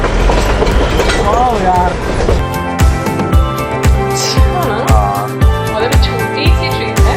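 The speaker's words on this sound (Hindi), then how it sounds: "अब हम ब्रॉड गॉज लाइन को क्रॉस कर रहे हैं और मर्ज हो रहे हैं वापस नैरो में।" Darjeeling Himalayan toy train rolling across a broad gauge line and merging back onto narrow gauge track, with steady rhythmic wheel clacks over rail joints, a continuous rumble and squealing wheels, while someone talks over it.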